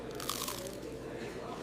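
A crunchy bite into freshly made crispy fried chicken, a loud close crackle of breading followed by softer chewing, alone without talk.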